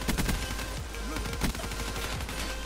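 Rapid automatic gunfire from a Call of Duty: Black Ops 3 weapon, a dense stream of sharp shots with a very high rate of fire, loud and continuous across the short burst.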